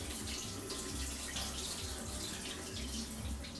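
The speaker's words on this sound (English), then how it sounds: "I'm like rinsing for the third time now." Tap water runs steadily into a sink while chickpeas are being rinsed, a continuous splashing flow at low volume with no talk.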